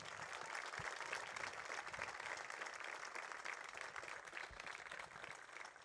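A crowd at a high school 9/11 memorial soccer jamboree applauds in a continuous, distant wash of clapping and cheering that holds steady throughout.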